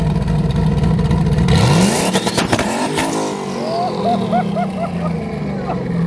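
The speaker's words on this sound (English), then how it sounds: "Can you rev it? One time." At a Mustang-only car show, a Ford Mustang engine roars in a loud, close rev that sweeps sharply upward and then falls away, followed by lower rumbling with crowd noise and brief whoops around it.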